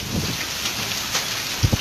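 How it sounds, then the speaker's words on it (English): Hail and heavy rain pour down during a flooding storm in Oklahoma City, a dense steady roar of rushing drops throughout with a couple of louder thumps near the end, as if stones strike a nearby truck. "God damn, it's hailing like a motherfucker."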